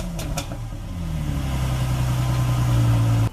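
Car engine idling while it warms up, a steady low rumble close by that swells slightly before cutting off abruptly near the end, with brief clatter at the start.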